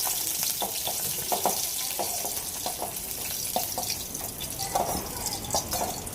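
Green chilies roasting in a pan for spicy mirchi thecha, a close, steady crackling sizzle punctuated by frequent short stirring clicks, with no one talking.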